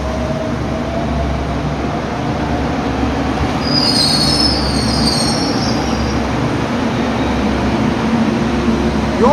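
A JR Kyushu 783 series Hyper Saloon train rolls into Hakata Station with a loud, continuous rumble, and high metallic wheel squeals rise midway through, close by and with no voices.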